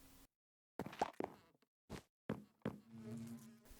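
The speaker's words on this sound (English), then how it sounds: "And this is my bee enclosure." Minecraft bees buzzing inside a bee enclosure, a few short insect-like hums in separate bursts with gaps of near-silence between them, the last burst lingering as a steadier drone.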